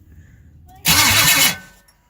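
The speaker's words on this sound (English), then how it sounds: "So now all you gotta do is hit your key, 12 volts to your key," LS engine in a C10 truck cranking on its starter, a short loud whirring burst of under a second amid quiet surroundings.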